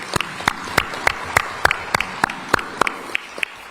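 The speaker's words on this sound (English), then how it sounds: "I think a big round of applause for both of them." Applause at a trade agreement signing ceremony, thin and sparse, a handful of distinct, fairly regular claps standing out over a quiet room.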